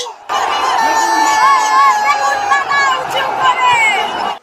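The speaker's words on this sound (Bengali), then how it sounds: "এই মুহূর্তে মা লরিতে উঠে গেছে তাই সবার উল্লాস" A crowd cheers and whoops loudly and steadily as a goddess idol is loaded onto a lorry at a Chandannagar immersion procession, the roar continuing for several seconds with shrill voices and babble mixed in.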